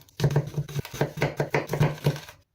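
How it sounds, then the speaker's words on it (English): A knife dices red onions on a cutting board in quick, steady chops, about ten crisp knocks in a fast rhythm, close and fairly clear. "Jump cuts in the middle of dicing an onion is cheating."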